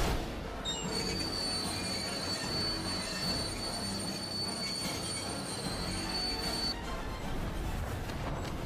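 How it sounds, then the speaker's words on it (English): A train runs in the LEGO Marvel's Avengers video game, its wheels squealing in long, high, sustained tones over a steady rumbling rail roar, loud and close throughout with no talk. "Well, stop this train."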